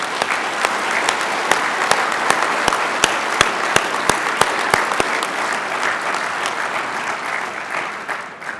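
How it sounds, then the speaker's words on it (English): An audience at a state trooper and dispatcher ceremony gives a keynote speaker a sustained round of applause, dense steady clapping with sharp individual claps standing out, loud and continuous for several seconds before tapering slightly at the end. "Let's express a round of applause to our great keynote speaker tonight and guest, Coach Philip Fulmer."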